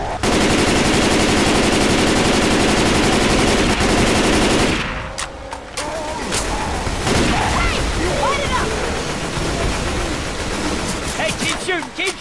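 Continuous loud gunfire from Left 4 Dead 2 fills the first half, then breaks into separate heavy shotgun blasts and scattered shots with game noise between them.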